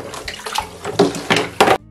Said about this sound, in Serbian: Bilo bi dobro da sipate što topliju vodu.